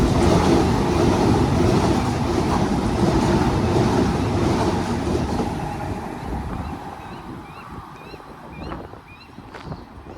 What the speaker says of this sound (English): I see that platform 1 train arriving right now.